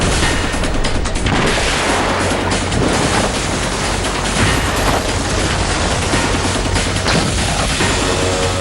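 Airstrike explosions against ISIS targets, heard as a loud, dense, continuous roar of blasts and rumbling with no clear gaps, the booms blending into one heavy wash of noise.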